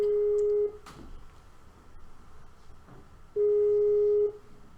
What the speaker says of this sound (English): So we're just ringing David now